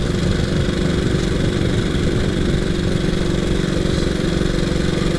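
A 1926 HRD Model 80 vintage motorcycle engine drones steadily while riding at about 50 to 55 mph, a loud, continuous mechanical roar with a rough, even pulse and no pauses.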